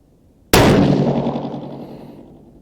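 A single 6CM rifle shot firing a 38.9-grain H4350 load with an EC Tuner fitted cracks loudly after a brief quiet, then rings out and decays for about two seconds with no talk.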